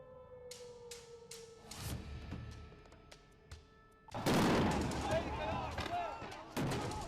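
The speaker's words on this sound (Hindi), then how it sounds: "उन्हें खदेड़ने के लिए गोलियां चलाई जा रही हैं।" Gunfire near a US base in Baghdad, aimed at a militia: sharp, scattered cracks at first, then a dense, louder burst of overlapping shots with crowd noise and voices mixed in.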